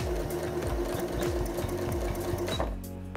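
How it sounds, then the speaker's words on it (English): Sewing machine stitching the lining gusset of a circular crossover bag, a steady rapid needle rhythm running continuously and close, then slowing and stopping near the end. "that's where I'm gonna start sewing this one together"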